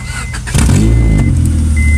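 A car engine with no alternator or belts fitted fires up about halfway through, catching after a brief crank and settling into a loud, steady, rough idle close by.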